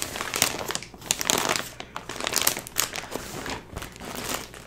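Crinkly plastic packaging of a Premier Yarns mystery bag being torn and opened, with loud, close crumpling and rustling that comes in uneven bursts throughout.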